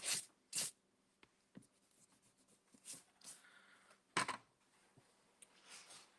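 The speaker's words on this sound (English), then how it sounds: "I think we'll use colored pencils." Colored pencils scratching across paper in short strokes, close and quiet, with sharp bursts of hatching separated by pauses and soft rustles.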